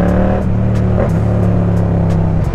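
A motorcycle engine with a full aftermarket exhaust line runs loud and close with a deep, steady throb and a brief rev in the middle.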